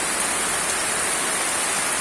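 Heavy rain pours down steadily during Typhoon Aghon in the Philippines, a dense, unbroken hiss with no voices and no variation across the short stretch.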